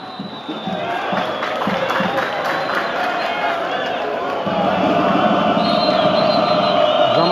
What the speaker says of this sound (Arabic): الجماهير كتحاول انها تشجع الفريق ديالها اكثر فاكثر من اجل تسجيل الهدف الاول اولمبيك ريبكا